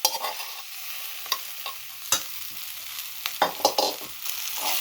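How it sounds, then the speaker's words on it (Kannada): Ivy gourd palya being stir-fried in a pan, with a continuous soft sizzle of oil beneath repeated scraping and clinking strokes of the spatula against the pan at an irregular rhythm. "ಈ ಥರ ಚೆನ್ನಾಗಿ ಫ್ರೈ ಮಾಡಿಕೊಂಡು ಕಲಿಸ್ಕೊಬಿಡಿ."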